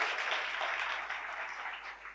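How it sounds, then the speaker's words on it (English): An audience at a TEDx youth event applauds in a dense, continuous wash of many hands, fairly distant and soft, keeping a steady level and tapering slightly at the end, with no speech. "have a round of applause that's slightly more energized than what you're doing since the morning"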